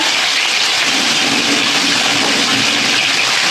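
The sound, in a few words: frying fish in a pan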